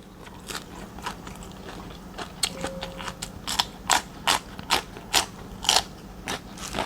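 Crunchy fresh raw vegetables eaten with roasted Thai shrimp paste give a close run of loud, evenly spaced crisp bites and chews.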